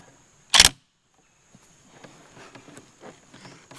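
The bolt of a SIG SG510 PE57 rifle is worked with one sharp, loud metallic clack, followed by quiet handling rustles and faint clicks up close.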